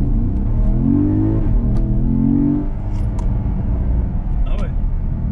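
A 2013 Porsche Panamera GTS with a non-turbo engine pulls away from a standstill, its engine note climbing loudly and steadily under cabin noise, with a person speaking over part of the run.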